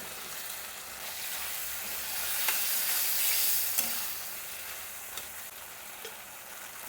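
Prawns frying in a pan with yogurt, a steady sizzle and hiss with occasional stirring scrapes, close and moderately loud with no voices.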